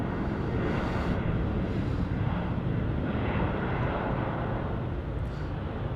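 A fixed-wing airliner taking off from Brisbane Airport makes a continuous, heavy engine roar with a broad rumbling low end, steady and loud throughout, with some wind buffeting on the microphone.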